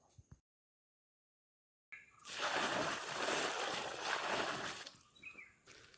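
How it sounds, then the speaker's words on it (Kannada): Water is poured onto forest soil above a wild yam to soften the ground for digging, heard after a brief silence as a close, steady splashing and trickling for about three seconds before tapering off. "ನೋಡಿ, ಈಗ ನೀರು ಹಾಕಿಟ್ಟಿದ್ದೇನೆ"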